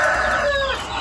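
A chicken gives a brief, loud cluck close by, a short clipped call.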